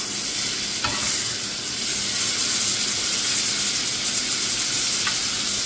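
Corn pulao rice sizzles in a hot pan while being stirred and flipped, giving a steady frying hiss with occasional scraping clinks of the utensil, close and fairly loud, with no voices.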